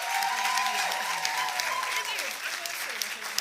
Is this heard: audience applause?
yes